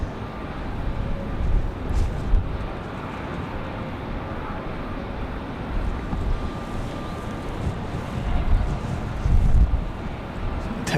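Strong evening wind buffets the microphone at Raleigh-Durham International Airport with a low, rumbling roar that swells and eases in gusts and continues without a break, with no speech.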